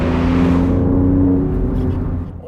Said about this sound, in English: On the road, the Giulia impresses with a go-kart driving experience and a goosebump-inducing sound